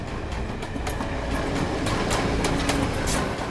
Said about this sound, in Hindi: ट्रेन की आवाज़ है ना कुछ?